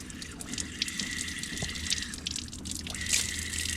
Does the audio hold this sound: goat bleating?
no